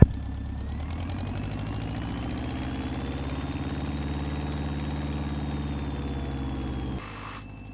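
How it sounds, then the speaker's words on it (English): A Lake Amphibian seaplane's engine drones steadily at high power during its takeoff run on water, a loud, even, close roar with a rising tone before it abruptly quietens near the end. "Lake Amphibian, taking off runway 34"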